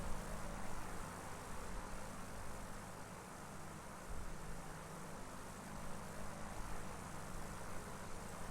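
A propeller airplane drones as it takes off in the video game Kentucky Route Zero, a quiet, continuous hum of engine and airscrew holding steady for several seconds with no talk.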